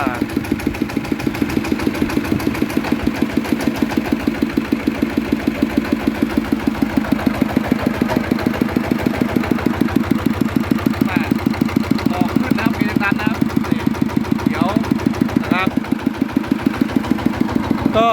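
A small water pump engine runs loud and close at a steady idle, its rapid chugging pulse regular from start to finish.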